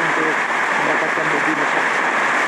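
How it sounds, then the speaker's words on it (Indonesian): Steady, loud hiss of heavy rain pouring continuously, with no pauses, close to the microphone, in eastern Sulawesi. "kita lihat di sini hujan deras"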